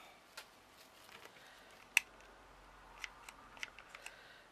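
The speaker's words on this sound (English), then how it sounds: "So I need my scissors just to cut that." Scissors snipping apart a fabric rose for a mixed media canvas, a few faint, sharp isolated cuts spaced irregularly at close range in a quiet room.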